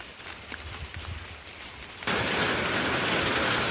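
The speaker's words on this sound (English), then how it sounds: "It actually started raining a little harder than I expected" Rain falls on a backyard vegetable garden, light patter at first that abruptly swells into a steady, loud hiss of heavier rain.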